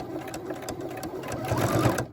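A sewing machine stitches along the edge of a fabric face mask, a quick continuous whir rising slightly in speed toward the end, close and clear.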